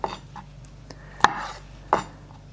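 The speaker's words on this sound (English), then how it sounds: "now we need some Kalamata olives. And I'm just gonna cut these in half" Kalamata olives halved with a knife on a cutting board, three distinct chopping knocks spaced across a quiet background, with fainter taps between them.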